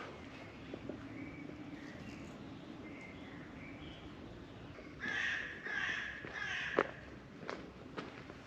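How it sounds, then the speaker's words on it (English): Several loud bird calls ring out in bursts partway through, over a steady outdoor hiss, with faint chirps earlier on, in a forest near Arta in northwestern Greece. "listening to the birds and breathing fresh air"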